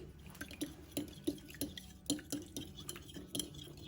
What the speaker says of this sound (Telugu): ఇప్పుడు దీనిలో పెప్పర్ పౌడర్ వేసుకుందాం. మొత్తం కలిసేలా ఒకసారి మిక్స్ చేసుకోండి.